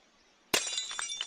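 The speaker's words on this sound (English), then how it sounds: "The sound of breaking glass." Glass smashes in an audio drama effect, a sudden bright shatter after near silence, followed by a spray of tinkling shards scattering for under a second, close and alone.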